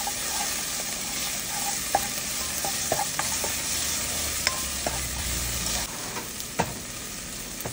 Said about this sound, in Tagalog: Yan, onion. Gisa natin hanggang sa maluto.